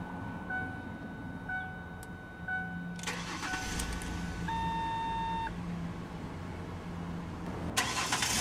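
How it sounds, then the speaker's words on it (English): A 2002 Ford Explorer Eddie Bauer with a V6, 4x4, sounds a few soft chimes before the engine cranks and catches, then settles into a quiet, steady idle. "let's go ahead and start the engine"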